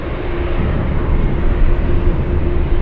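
Steady, loud jet engine roar of a Boeing 747 at Anchorage airport, a continuous broadband rumble that holds level and close throughout without speech.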